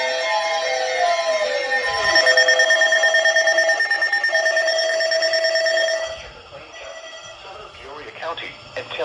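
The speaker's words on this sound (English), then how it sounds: "This station will broadcast severe weather alarm tones for locale." Emergency Alert System severe weather alarm tones blare as a steady, loud two-tone broadcast signal for about six seconds, then cut off to quieter broadcast sound.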